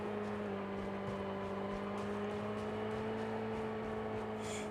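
A car in the video game COD Mobile drives with a steady engine drone and sustained whirring tones, at a constant moderate level throughout.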